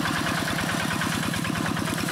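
A Quick G1000 rice field tractor with a Kubota RD85Di2S diesel engine runs steadily close by, a loud, even, rapidly pulsing chug with no talk over it.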